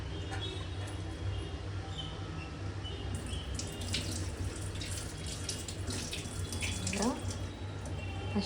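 Cold tap water runs steadily to soak a goat brain, a continuous close splashing stream with occasional drips and faint talk in the background.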